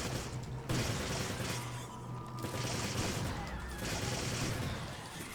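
Dense, loud gunfire fills the Resident Evil 5 game, with rapid overlapping shots and booms that rise and fall in bursts over a continuous noisy background.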